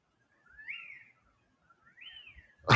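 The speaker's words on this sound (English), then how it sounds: "I'm trying to find a spot where there's not so much wind and you can still hear the birds" Birds call during a storm: two rising and falling whistled calls, fairly clear and moderately close, over near silence, ending with a sudden gust of wind noise.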